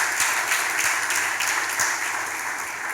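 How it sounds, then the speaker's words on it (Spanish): A church congregation claps in sustained applause for the Lord at the close of a sermon, a dense, steady wash of many hands throughout with no break. "Aplaude al Señor, por favor."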